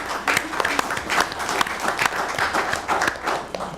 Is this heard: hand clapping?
yes